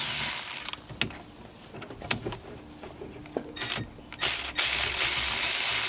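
A quarter-inch drive socket ratchet works on a short steering column screw from a 1987-1991 Ford Bronco or F-series truck, giving sparse, sharp clicking strokes up close, with a quicker run of clicks near the end.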